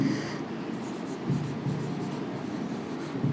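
Steady scratchy rubbing of a pen or chalk writing on a board during a physics lesson on motion, a continuous close scraping that runs throughout with no talking.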